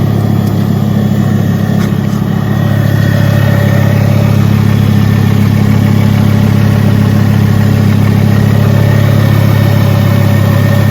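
A Ford Focus MK2 engine idles steadily and close by, just after a radiator change, with a constant low hum and a faint high whine running evenly throughout and no talk.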